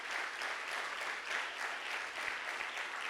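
A steady wash of audience applause for the volunteers at a church conference, faint and distant, continuous throughout without voices.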